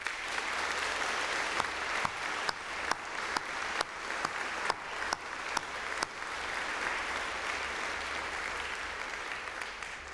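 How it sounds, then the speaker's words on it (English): At a school girls' division presentation evening, an audience gives a sustained round of applause, an even wash of many clapping hands with occasional louder nearby claps, heard from some distance for about ten seconds. "Let us give all of the colleagues a round of applause"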